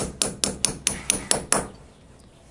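A hammer raps a small metal lock tab by the sprocket nut on a motorcycle transmission: seven quick, evenly spaced metallic taps, near and crisp, followed by a quiet pause.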